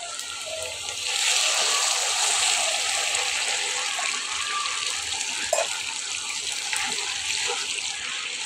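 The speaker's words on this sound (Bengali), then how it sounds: "তো এর মধ্যে আমি জল দিয়ে দিচ্ছি" Tap water gushes into a cooking pot in a home kitchen, a loud steady stream that starts after a second and runs continuously to the end, with no talk over it.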